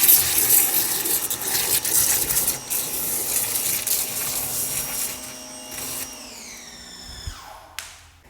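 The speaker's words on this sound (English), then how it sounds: "use your pressure washer and get some suds going." A pressure washer sprays water to work up suds, a dense, loud hiss that runs steadily for about six seconds, then tails off with a rising whine and a brief sputter before stopping.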